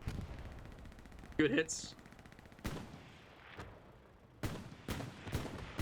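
Artillery and heavy gunfire in a World War II tank battle video game, sharp booming blasts scattered at irregular intervals, some close and some distant, with someone commenting briefly.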